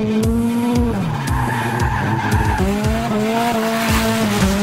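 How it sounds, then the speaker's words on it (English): A Scion tC race car drifts sideways, tires squealing loudly and continuously over the high, wavering whine of its engine as the revs rise and fall through the slide. "I control the car in a sliding manner. It's drifting, it's going sideways."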